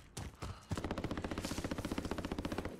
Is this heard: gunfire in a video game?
yes